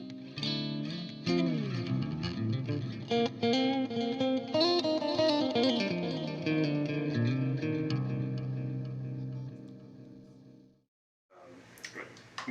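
Electric guitar with humbucker pickups, tuned down and played clean with a touch of reverb, ringing chords and single notes that sustain and decay, a pause, then a fresh strum.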